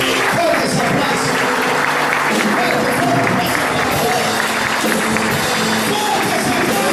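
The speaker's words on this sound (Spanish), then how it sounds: "Fuertes aplausos." A church congregation applauding loudly after a sermon, a thick sustained roar of clapping mixed with crowd noise and voices.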